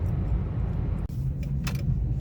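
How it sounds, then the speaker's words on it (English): Road traffic passes near a park, a steady, fairly loud rumble of car engines and tyres with a brief gap and some higher rattling toward the end. "There is quite a bit of traffic though."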